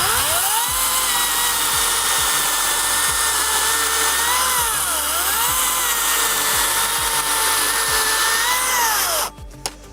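Greenworks 60V battery chainsaw cutting through branches, a loud steady high-pitched motor whine that dips and rises in pitch as the chain bites into wood, stopping abruptly near the end.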